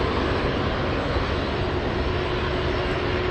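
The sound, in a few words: China Southern jet airliner landing at Anchorage airport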